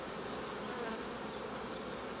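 Honeybees buzz over open hive frames in a dense, continuous drone, close and steady throughout with no voices.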